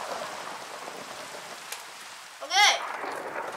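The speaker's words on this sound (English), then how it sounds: "Okay, the weather is raining. I don't want it to rain." Steady rain hisses on surfaces in a video game, a soft continuous wash with a brief rising tonal sound partway through.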